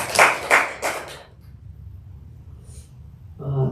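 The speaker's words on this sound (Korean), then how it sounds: "다시 한번 고맙습니다. 박수 한번 하겠습니다." A church congregation claps in a short burst of about four sharp claps that fades into a quiet room, and a voice begins speaking at the very end.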